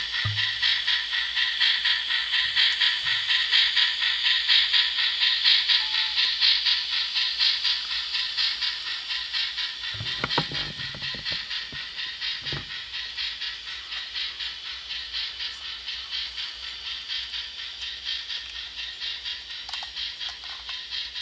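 An N-scale model locomotive with a dim headlight runs along its track, giving a faint steady rolling rattle across a constant background hiss, with a few brief clicks near the middle.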